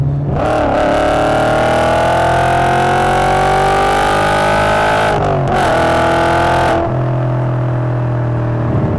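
An Audi RS4 B7 Avant engine revs up loud and close, its pitch climbing steadily, then dropping briefly before rising again and settling into a steady drone.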